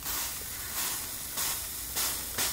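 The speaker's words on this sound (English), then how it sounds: "you can hear the Windex is like boiling" Windex sprayed onto hot, freshly heat-anodized metal hisses and sizzles as it boils, with steady broadband hiss swelling in repeated bursts about every half second, close and fairly loud with no talking.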